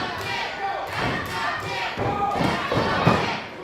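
A wrestling crowd at an ACW Proving Ground show cheers and shouts steadily throughout, with scattered thuds and yells rising and falling around the ring.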